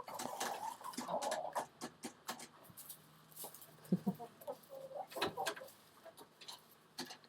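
Hens cluck in short, scattered bursts, close by, with a louder squawk near the end; occasional quiet ticks and soft background noise between calls.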